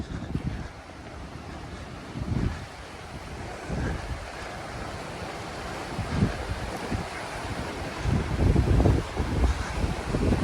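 Water of the French Broad River rushes steadily outdoors in the Appalachian backcountry, a continuous broad roar with gusty low-frequency wind buffeting the microphone throughout, and no voices.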